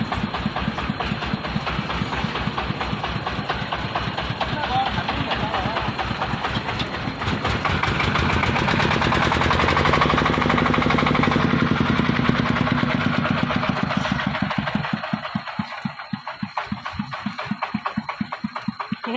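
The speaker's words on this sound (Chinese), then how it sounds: "你看这张拖拉机这里，下雨天路不好，焊进去了，刚刚把它拖出来" A tractor on a muddy rural road among tobacco fields in Xinping County, Yunnan, runs loud and close, its heavy engine chugging in rapid, even pulses that swell in the middle and then settle back toward an idle.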